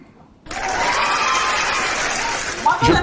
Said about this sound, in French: il faut applaudir pour toi-même